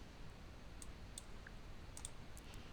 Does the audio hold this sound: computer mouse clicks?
yes